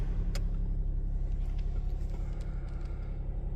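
A 2018 Volkswagen Polo with the 1.0 TSI engine idles just after starting, a steady low rumble that stays even and close throughout, with no talking.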